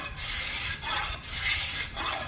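A rough prototype bowyer's scraper is drawn along a wooden bow, pulling off thick shavings in four rhythmic, close, raspy strokes separated by short pauses, with no talking.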